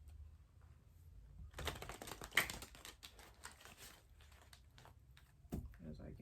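Tarot cards being shuffled by hand, a run of soft riffling and papery flicks that rises to a busier burst midway and trails off, fairly close and quiet against a faint room hush.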